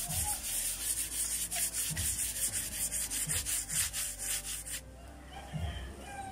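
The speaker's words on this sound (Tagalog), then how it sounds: "So lilihain ko muna ito" Sandpaper rubbing over a dried skim coat on a rough wall: steady, rhythmic back-and-forth scraping strokes, close and fairly loud, that run for about five seconds and then stop.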